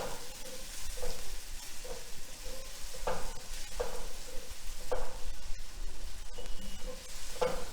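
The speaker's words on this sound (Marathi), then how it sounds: "आपला मालवणी मसाला सगळं एकसारखं छान परतून घ्यायचं आहे" Malvani masala for dried bombil fish fries in a pan with a continuous low sizzle, broken every second or so by scraping stirs of a spoon against the pan.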